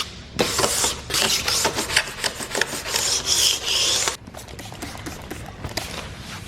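A paint scraping tool rasps across EVA foam in a steady run of loud, gritty strokes lasting about four seconds, then stops, leaving quieter scattered scuffs and handling noise.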